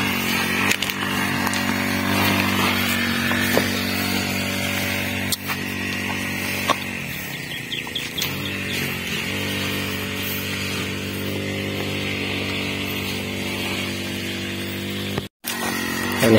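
A motorized grass cutter runs at a steady, buzzing idle-to-working pitch, a continuous nearby engine drone with small fluctuations and a brief cutout near the end.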